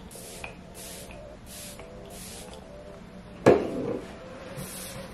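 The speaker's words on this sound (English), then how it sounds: "I'm gonna spray it." A single short burst of setting spray being misted onto a face, soft and close, following a few faint rubbing sounds in a quiet room.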